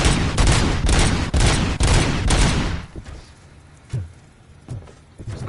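RoboCop: Rogue City gunfire: dense, loud rapid shots in the first few seconds, then a handful of spaced single shots over a quieter backdrop.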